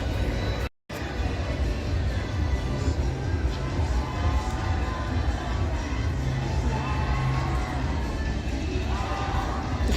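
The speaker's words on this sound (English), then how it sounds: "Donald's got the whole crowd cheering." A crowd of guests cheers and shouts for Donald Duck at Magic Kingdom on New Year's Day, a dense, steady roar of many voices with children calling out, close and continuous except for one brief dropout near the start.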